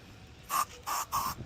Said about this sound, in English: just spray these down